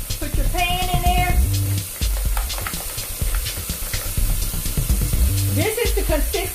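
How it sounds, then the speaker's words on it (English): Water pours from a tap into a pan of chicken dressing in a home kitchen, running in two bursts with a steady hiss and splashing while a voice talks over it. "So we're going to add more water to it."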